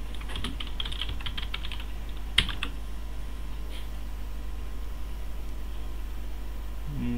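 Light keystrokes on a computer keyboard while writing a movie blog comment, a brief patter of taps near the start and a sharper click around two seconds, then mostly steady low hum with little typing.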